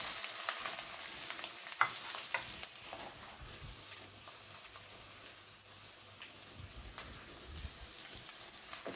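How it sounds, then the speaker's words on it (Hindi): Potatoes fry in a pan of green masala, a steady close sizzle and crackle with occasional sharper pops and stirring scrapes, no voices. "इसको थोड़ा और फ्राई करेंगे। इसमें आलू डाल देंगे।"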